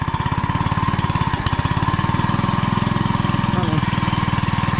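A hand tractor's engine chugs in a rice paddy with a rapid, even, pulsing beat, loud and steady throughout.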